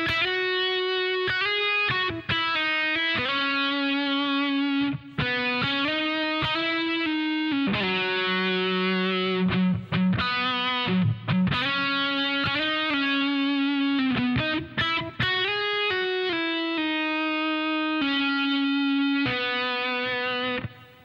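Distorted electric guitar playing the solo intro of a song, with sustained singing notes and quick pull-offs and phrase breaks, loud and continuous with no talking.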